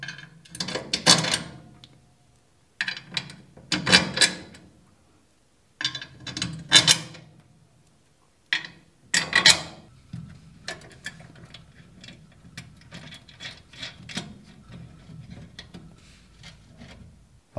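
Bolts on the brake anchor plate of a Piaggio Ape 50 three-wheeler are tightened by hand during a brake restoration, with a series of close metallic ratcheting clicks in several bursts followed by quieter ticking and fiddling.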